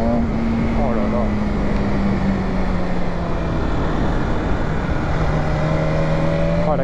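A 2020 BMW S1000 RR motorcycle pulls hard in second gear, its engine note rising and then sliding down steadily, loud and close amid heavy wind roar.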